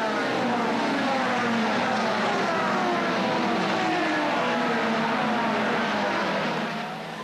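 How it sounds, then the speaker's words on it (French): Honda and Peugeot Procar touring cars race on a Belgian circuit, a dense, loud, sustained engine roar with rising and falling pitches from several cars passing close together. "La Honda VZM fait l'extérieur à la Peugeot, tandis que derrière, Thierry Tassin est déchaîné"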